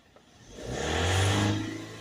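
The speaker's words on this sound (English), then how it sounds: "And then while the engine's running, we can put more of the fluid into it." A Ford Transit Custom 2.2 diesel van engine, under service for DPF cleaning, starts up and runs, rising from quiet into a steady close-up idle hum that swells and holds.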